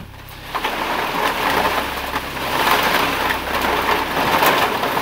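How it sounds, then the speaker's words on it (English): Steady rainfall, a broad hissing wash of drops that swells and eases slightly while staying continuous and fairly close, with no voices over it. "Rain."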